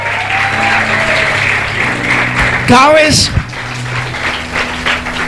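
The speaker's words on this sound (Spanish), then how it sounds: "¿Cuánto le dan un aplauso fuerte a Dios por sus pastores?" A church congregation applauds in honour of its pastors, clapping at moderate level behind a voice speaking over it, with a brief tonal swoop of sound in the middle.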